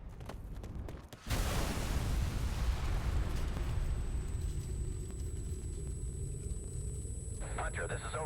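A bomb goes off in Ghost Recon Future Soldier, a sudden loud blast that swells into a long, heavy roaring rumble, slowly fading over several seconds.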